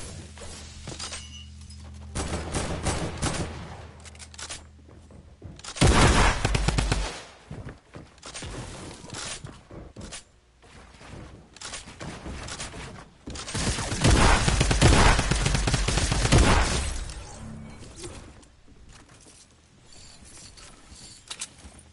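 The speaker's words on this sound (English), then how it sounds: "Let's try the shotgun, shall we?" Heavy, blasting shotgun fire in a battle royale game, loud booming bursts mixed with shattering impacts and dense rapid gunfire in clusters across the stretch.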